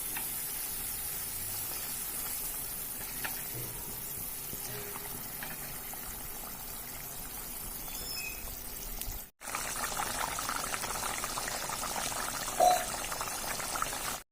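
Water is poured into hot oil and spice paste frying for a thin rohu fish curry with cumin paste, giving a faint steady sizzle and bubbling, with a brief break before the sizzling continues.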